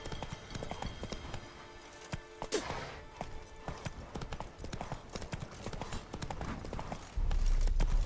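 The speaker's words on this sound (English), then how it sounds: "Run, Roach." A horse galloping in the video game The Witcher 3, with rapid rhythmic hoofbeats close up, a whoosh near the middle, and a louder low rumble at the end.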